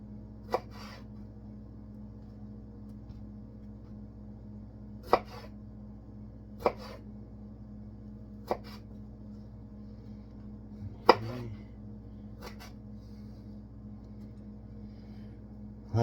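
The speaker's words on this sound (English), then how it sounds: "They're cherry tomatoes, so I'm going to cut them in 4." A knife cuts cherry tomatoes into quarters on a board: about seven crisp, isolated chops spread unevenly over a quiet background, each a sharp close tap.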